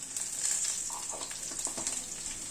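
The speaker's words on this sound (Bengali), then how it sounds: "অল্প একটু কালো জিরে ফোড়নে দিলাম।" Nigella seeds, crushed garlic and a slit green chili sizzle steadily in hot oil over a gas flame, a close, continuous crackling hiss with a few small pops and no talking.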